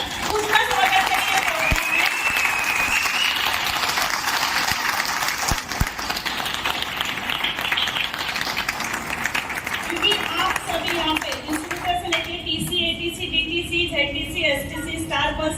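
Sustained applause from a large audience, dense steady clapping filling the room with crowd noise throughout.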